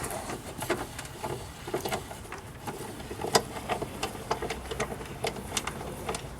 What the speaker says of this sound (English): we want to take this hold down bolt out